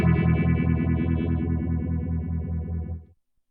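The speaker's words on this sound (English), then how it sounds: "The rate basically controls the speed of the modulation, so got it running fairly slow there. I'll just speed it up somewhat." An electric guitar runs through a phaser pedal set to a faster modulation rate, giving a distorted sustained chord that pulses in a quick, regular warble for about three seconds before cutting off abruptly.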